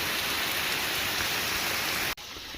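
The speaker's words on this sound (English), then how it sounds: "the rain is slacking up" Rain falls on a hiking trail in the Foothills, a steady, fairly loud broadband hiss with no voices, cut short by a sudden brief dropout near the end.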